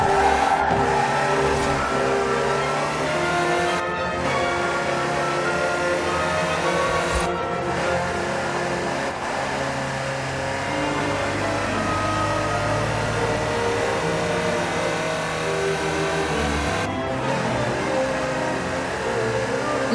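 A Land Rover Type 3 drives in Forza Horizon 4, its engine droning loud and steady throughout with tyre noise and brief dips as gears change.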